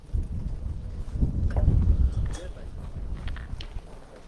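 Gusty wind buffets the microphone with low rumbling bursts during an outdoor pétanque triples quarter-final in Saint-Tropez, while people talk nearby under the noise.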